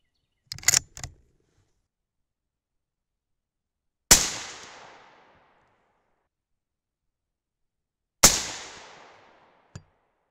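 Two sharp, loud rifle shots from a 6.5 Creedmoor ring out about four seconds apart, each with a decaying outdoor echo tail, preceded by a few quick mechanical clicks and followed by a brief click.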